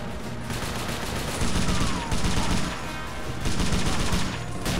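Continuous dense gunfire aimed at infantry in the World War II video game Faces of War, Omaha Beach mission, a steady roar of rapid shots and machine-gun bursts that swells in places, with no voices.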